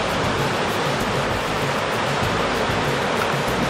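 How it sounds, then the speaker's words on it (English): Sea waves rushing into a coastal cave make a loud, constant roar of churning water and spray, dense and unbroken, with no voices. "there's another cave, and all the water just comes rushing in"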